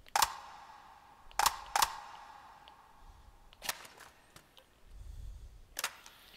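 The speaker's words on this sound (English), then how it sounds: "And the bolt's locked back." A gun bolt locking back in the VR shooter H3VR, sharp metallic clacks heard as a few isolated loud snaps with quieter handling clicks between them, with no voices.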